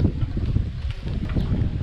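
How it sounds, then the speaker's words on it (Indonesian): Strong wind buffets the microphone outdoors during a fishing gear demonstration near the water, a continuous low rumbling roar with gusty surges and no speech. "Maaf ya teman-teman, anginnya agak kenceng."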